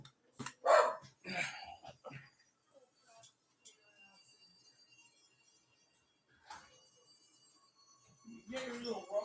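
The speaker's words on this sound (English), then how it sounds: "Dang dogs barking at nothing." A few sharp dog barks ring out near the start, then quiet stretches with faint sounds, and more barking or yelping returns at the end.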